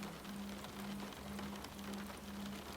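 Soft, steady rainfall around a cottage, a quiet continuous patter with a faint low hum running beneath it, no voices.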